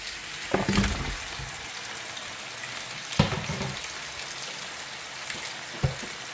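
Meat frying in a pan for couscous gives a steady, soft sizzle, broken by a few sharp knocks and scrapes as it is stirred, with no voices.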